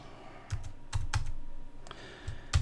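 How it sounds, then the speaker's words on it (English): A few keys clack on a computer keyboard while a number goes into a Microsoft Excel 2013 cell, close, sharp taps in short irregular bursts with no talking. "we'll just go ahead and type a number"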